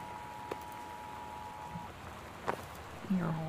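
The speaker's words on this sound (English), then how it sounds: "The Northwest Weather Service reports high winds and torrential rain" Steady rain in the video game Gone Home during a severe weather warning, a soft continuous patter with a few louder drops and faint tones, under a speaking voice.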